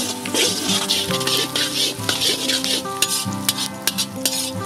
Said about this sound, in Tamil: இப்போ சேர்க்குறேன் பெரிய சைஸ் ஆனியனை